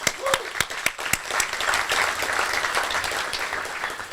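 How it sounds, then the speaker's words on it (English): Audience applause at a chamber congressional update event, a few sharp individual claps at first, then a dense sustained round of clapping from a crowd filling the room. "Give her a big round of applause."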